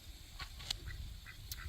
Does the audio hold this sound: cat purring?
no